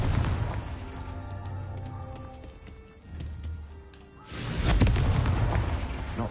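Spell blasts in the Hogwarts Legacy video game, heavy booming impacts with rumbling low end, the loudest burst arriving near the end after a brief lull.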